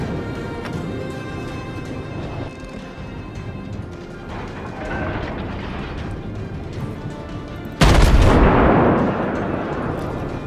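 A heavy naval gun salvo from the Japanese battleship Myogi in World of Warships erupts as one loud, close blast over a steady rumble of battle ambience, then decays slowly.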